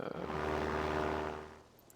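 A propeller aircraft flying in Sid Meier's Ace Patrol video game, a steady droning engine hum that swells quickly, holds, then fades away over a couple of seconds.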